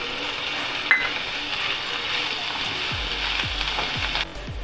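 Capsicum sautéing with ginger garlic paste in a pan for tawa paneer, a soft steady sizzle with a few light scraping stirs toward the end.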